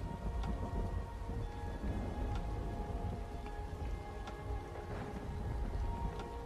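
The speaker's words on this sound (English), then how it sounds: "rain will be cleared and thunder strike will also stop as the rain is cleared" Steady heavy rain from an Unreal Engine dynamic weather system, with scattered sharp thunder cracks breaking through the continuous downpour.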